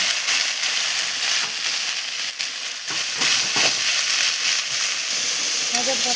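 Garlic and spices sizzling in hot oil as the base for a home-cooked fish curry, with a loud, continuous frying hiss and a few scraping stirs and clatters.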